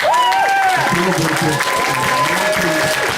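Audience applause for the venue at a horror host hall of fame induction ceremony, steady crowd clapping with voices and whoops mixed through it, fairly loud and sustained.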